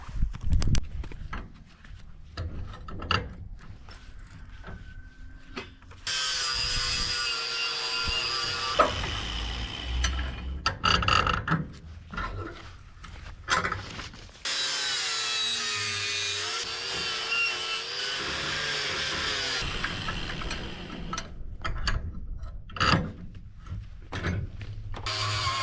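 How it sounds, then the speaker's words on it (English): A wire wheel whirs in long bursts against welded horseshoes at a welding table, loud grinding and scrubbing runs separated by clanks and handling knocks, with short pauses between passes. "Now we'll bring the wire wheel over here to the welding table and we'll clean those up."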